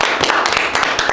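A small group of friends claps briefly in a room, a short burst of dense, overlapping claps lasting about a second.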